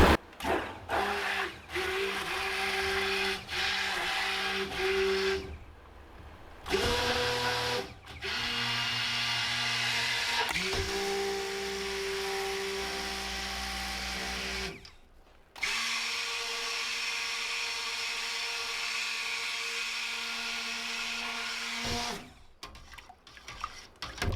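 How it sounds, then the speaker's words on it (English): A blender whirs steadily as it mixes powdered clays together for homemade all-natural soap, running in several bursts with short pauses between them, close and loud throughout. "I'm going to blend all of my clays together until they are all mixed"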